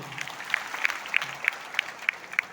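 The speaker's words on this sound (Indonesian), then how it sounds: "Tepuk tangan untuk Tuhan." Rhythmic unison clapping from a church congregation during a sermon, about eight evenly spaced claps at a moderate pace over a dull room murmur.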